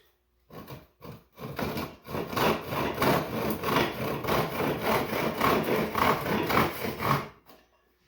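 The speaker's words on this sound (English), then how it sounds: "we're going to cut this thing to size" A piece of wood for a knife box is cut to size with a hand saw, a rhythmic rasping of close back-and-forth strokes speeding into an even run before stopping, no talk.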